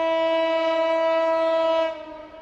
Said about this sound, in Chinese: 很凑巧，在这里听到火车的鸣笛声